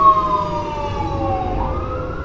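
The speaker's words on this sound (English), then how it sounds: "I told you a fire truck was going by." A fire truck siren wails as it passes nearby, a loud sustained tone that slowly drifts in pitch, over low rumbling traffic noise.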